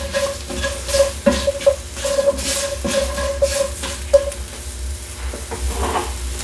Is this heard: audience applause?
no